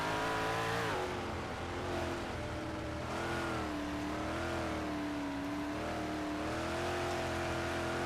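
Race car engines in the iRacing video game speedway race, a loud sustained whine rising and falling in pitch as throttle changes, with no talk over it.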